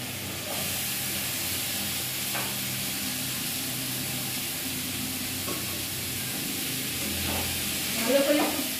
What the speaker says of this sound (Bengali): ভালো করে কষে নিই মশলার সাথে